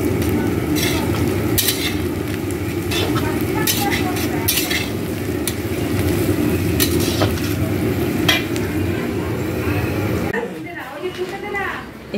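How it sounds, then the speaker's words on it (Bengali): Onions fry in a pan in a home kitchen, a continuous close sizzle with occasional stirring clinks that runs beneath steady conversation and then drops off near the end. "পেঁয়াজ ভাজা বসিয়ে দিয়েছি।"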